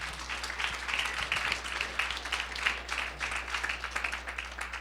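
An audience applauds steadily, dense clapping from a crowd held at an even level for several seconds under a low constant hum.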